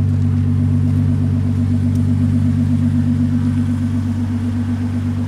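A 2016 Hyundai Genesis with a custom exhaust idles at close range, a loud, steady low rumble that holds evenly throughout with no revving.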